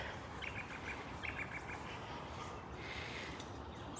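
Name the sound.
birds chirping at a lake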